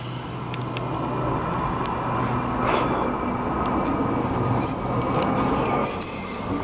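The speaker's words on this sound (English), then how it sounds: "here we have a Waratah just about to arrive in the platform number 2." A Sydney Waratah electric train rolls into platform 2 at Waitara station, a steady rumble of wheels and motors with faint high squeals and clicks as it pulls in.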